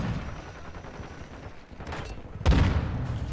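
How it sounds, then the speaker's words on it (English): Gunfire from a P90-style PDSW submachine gun in Modern Warfare 2, a steady low rumble of shots with a sharper, louder burst near the end. "I'm shooting somebody else"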